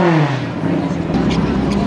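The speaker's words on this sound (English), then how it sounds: "Coming in down there at the finish line, 671 at 101 miles per hour on the right side" Race car crossing the finish line at 101 mph at Farmington, a loud engine roar that holds steady and then shifts as it goes by, with an announcer talking over it.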